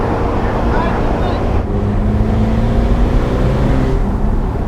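A Ferrari Portofino convertible driving with the roof off in sunshine, its engine a steady, loud drone mixed with rushing wind from the open cabin, with a short dip in the middle and a voice talking over it.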